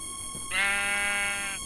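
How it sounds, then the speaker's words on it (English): A sheep in Minecraft lets out one loud, steady bleat lasting about a second, clear and close with nothing else over it. "So actually, I need to kill the sheep."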